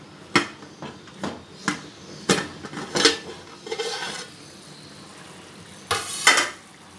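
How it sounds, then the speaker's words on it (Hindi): Masala being fried in a pan for stuffed capsicum (bharva shimla mirch): sharp scraping and clinking of a spoon against the pan in irregular strokes over a soft sizzle, with a longer burst of stirring near the end. "मसाला भी हमारा अच्छी तरह भुन रहा है"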